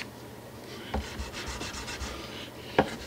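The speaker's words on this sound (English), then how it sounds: "if you take the fret eraser and you go with the grain, you can actually get that stuff out of there" A 1000 grit fret eraser rubs with the grain along a rosewood bass fretboard, giving a soft, close scrubbing with a few sharper taps, quiet and with no talking.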